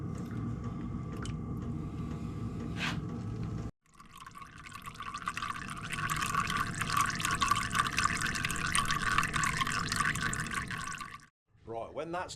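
Engine oil drains from a Yamaha XT660 motorcycle into a bucket, pouring as a steady trickling stream that starts abruptly, runs several seconds and cuts off, with talk heard before it.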